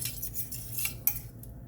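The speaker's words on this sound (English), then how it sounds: "Gonna mix those noodles up really, really good." Utensils clink and scrape against a dish while hot noodles seasoned with garlic powder and complete seasoning are stirred, with soft irregular taps and a sharper clack near the end, close and fairly quiet, with no speech.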